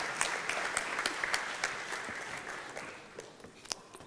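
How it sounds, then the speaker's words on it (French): Audience applause at a talk following a first line of code being shown, a moderate spread of clapping with some individual sharp claps standing out, gradually thinning toward the end. "On peut l'applaudir."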